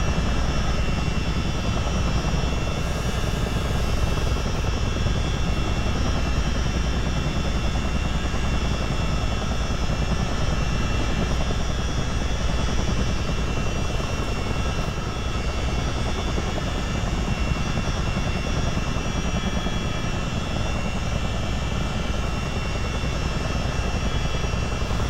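A US Army Chinook twin-rotor helicopter in Microsoft Flight Simulator, taxiing at the start of a North Carolina exercise, with a loud, constant engine and turbine drone and a whine layered over a dense low rumble.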